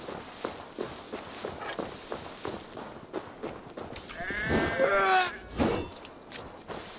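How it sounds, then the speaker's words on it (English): Sheep in a video game bleat in a wavering cry amid rhythmic footsteps and a steady background hiss, with the bleats rising clearly midway. "Just to be clear, these are sheeps, not goats."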